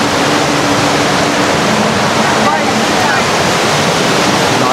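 A Palawan river rushes loudly and without a break in a dense, steady roar of flowing water.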